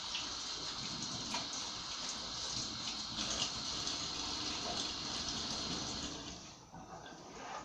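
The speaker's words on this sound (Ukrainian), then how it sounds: "зараз нам треба буде його піти в ванну і поперскати його водою легенько" Water sprays steadily into a tub, a continuous hissing rush that runs nearly the whole time before easing slightly near the end.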